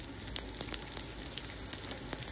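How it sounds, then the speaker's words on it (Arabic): Burger patties fry in butter in a pan, making a faint, steady crackling sizzle with tiny pops throughout and no voices. "خليها تتحمر شوي على بالسفل، بعدين بنقلبها على الوش الثاني"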